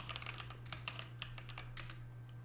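Quick, uneven keystrokes clatter on a computer keyboard in short bursts over a low steady hum, close and fairly quiet, with no talking.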